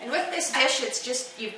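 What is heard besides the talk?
No everyday noises stand out.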